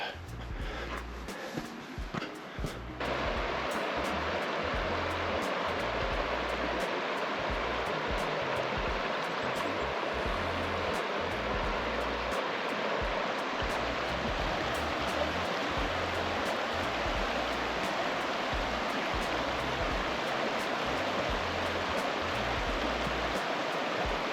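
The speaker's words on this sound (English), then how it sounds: "I like the sound of a creek or river flowing much more than ocean waves" Steady rushing of a creek or river flowing near a park trail, a continuous broadband wash of water that stays loud and even throughout, with a brief rustle at the start and no talking.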